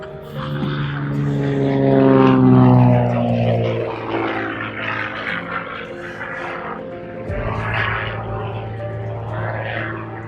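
Propeller aircraft engine at the Duxford air show, a loud droning roar with a steady pitched hum that swells around the middle, then eases off as the aircraft moves away, heard outdoors with no talk over it.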